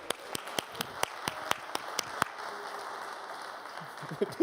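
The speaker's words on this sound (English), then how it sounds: "Give George a round of applause." Scattered applause from a live audience honoring a man named George, sharp separate claps in a steady run, then thinning out as a few voices murmur underneath.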